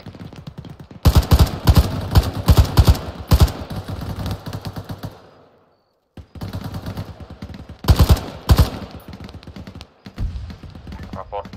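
Rapid bursts of video game gunfire, dense and loud, broken by a short pause before another volley, with faint voices under the shooting.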